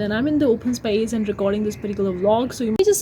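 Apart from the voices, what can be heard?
None of the usual background noises is heard.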